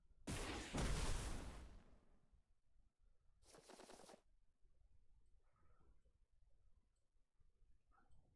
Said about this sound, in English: we get a lot of explosions going off